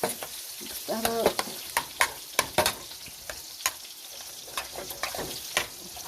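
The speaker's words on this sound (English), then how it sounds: "I'm going to go ahead and mix that up." Mashed potatoes stirred with butter and milk in a pot, irregular soft wet squelches and scraping clicks from the utensil, close, with a brief hum of voice early on.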